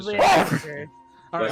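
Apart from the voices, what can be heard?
sneeze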